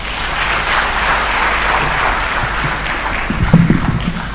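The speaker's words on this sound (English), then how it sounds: "let's be upstanding to give a round of applause to His Excellency, the President of the Republic of Uganda" Audience applause for the President of Uganda at the launch of the Kampala Marriott Hotel, a sustained round of clapping from a large crowd at an even level.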